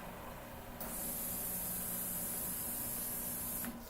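A steamer in injection mode sprays Optimum No Rinse onto a car hood with a sharp, continuous spraying hiss. It starts suddenly, holds steady and close for about three seconds, then stops.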